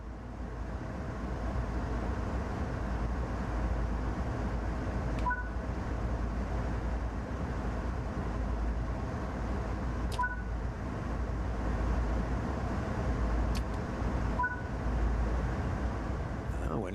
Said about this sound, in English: You'll be using GE ES44C4 locomotives hauling heavy intermodal freight.